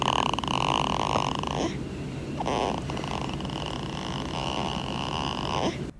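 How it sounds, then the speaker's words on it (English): A newborn baby girl makes soft, cute wheezing noises, close and steady, with raspy, purring breaths broken by a short pause and then resuming until the end. "They were kind of like a wheezing, but like a cute wheezing, not in a weird or scary way."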